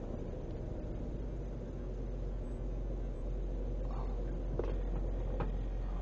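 A 2005 Nissan Quest minivan backs out, its engine giving a steady, low rumble from inside the cabin, with faint light knocks near the end.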